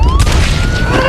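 Gunshot in an action film, a single loud close boom with a sharp crack at the onset, followed by a dense rumbling tail under a tense, sustained score.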